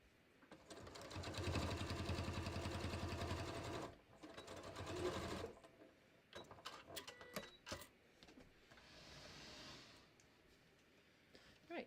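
Sewing machine stitching the short side of a collar, running in two loud continuous bursts of rapid needle chatter, then quieter clicks and handling noises as the fabric is turned.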